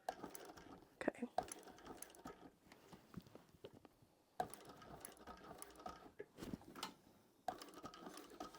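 A sewing machine stitches a tote bag in short bursts of whirring needle strokes, stopping and restarting several times, with quiet speech and handling noises between runs.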